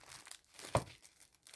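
Strip of tape being cut and crinkled by hand, a brief close crackle with one sharp snip-like peak, faint and short.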